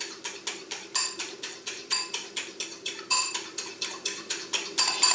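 Meringue whisked by hand in a bowl, a fast, even run of metallic clicking strokes about four per second, close and steady throughout.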